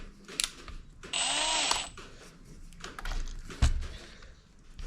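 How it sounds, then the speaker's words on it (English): A power drill whirs loudly for under a second amid scattered clicks and clunks of handling, with a couple of sharp knocks afterward, during MG cylinder head assembly. "I put the drill on"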